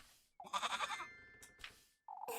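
A goat bleats in the video game Little Goody Two Shoes: a wavering cartoonish bleat, followed by short chime-like game sounds and a second brief bleat at the end, with no talk.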